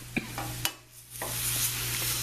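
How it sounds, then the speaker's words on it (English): Crab meat going into a hot pan for a cognac sauce, giving a soft sizzle with a few stirring scrapes and light clicks under a steady low hum. "Now we'll put in the crab meat."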